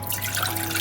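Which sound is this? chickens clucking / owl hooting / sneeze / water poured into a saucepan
water poured into a saucepan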